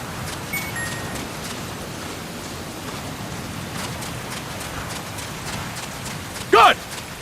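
Running footsteps in Metal Gear Solid: Peace Walker patter steadily under a hiss of ambient noise, with one short louder burst near the end.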